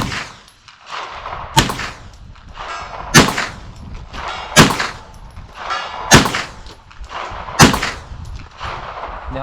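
9mm pistol fired at a steel target, six evenly spaced sharp shots each with a ringing metallic clang, loud and close, with no talk.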